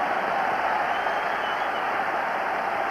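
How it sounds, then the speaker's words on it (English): A football crowd cheers steadily for a 19-year-old player, Charlie Miller, as he starts to warm up: a dense, unbroken roar of applause and voices spreading evenly through the whole stretch with no single voice standing out. "a great cheer goes up as Charlie Miller starts to warm up"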